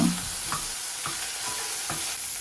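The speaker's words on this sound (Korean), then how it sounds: "먼저 양파를 넣고 볶아주세요" Onion stir-fries in a pan with a mix of oils: a steady soft sizzle under a few regular spatula scrapes roughly every half second, close by and with no talking.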